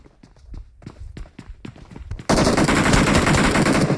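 PUBG gunfire: scattered single shots and footsteps, then a sudden loud, sustained burst of automatic fire that fills the rest of the moment.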